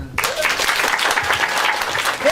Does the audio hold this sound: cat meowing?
no